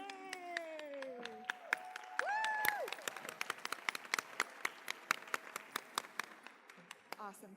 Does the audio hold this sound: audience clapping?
yes